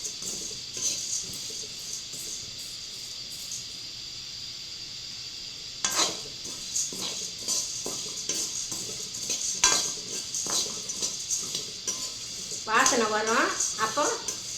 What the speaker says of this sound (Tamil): காந்த விடாமல் பதமாக வறுத்து எடுக்கணும்